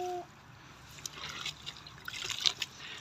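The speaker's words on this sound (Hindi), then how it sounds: "इधर दें पानी, पानी लगाएं इधर" Water poured and trickling over a child's bicycle during washing outdoors, with irregular splashes and dribbles after a brief tone at the start.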